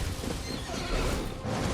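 A horse in Elden Ring on the Altus Plateau gives a harsh, noisy neigh amid loud combat clatter and impacts. The sound is dense and busy, with no speech.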